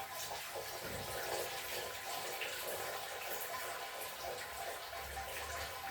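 Sparge water pours steadily onto the grain bed of a home-brew mash for a dark lager, a continuous close splashing flow with no talking.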